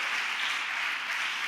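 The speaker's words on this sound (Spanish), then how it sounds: "Dale un aplauso al que te puso en el huerto." A church congregation claps in a broad, even wash of applause during a sermon, steady and moderately distant, with no speech over it.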